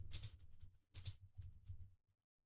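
Fast bursts of typing on a computer keyboard as a search phrase is entered, crisp close key clicks in two or three quick runs before stopping, quiet and without talk.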